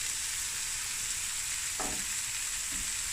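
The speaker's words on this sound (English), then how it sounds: "now we're just going to fry this and stir occasionally for about 10 to 12 minutes" Onions and garlic frying in a pot, giving off a steady soft sizzle with a couple of brief stirring scrapes, quiet and without speech.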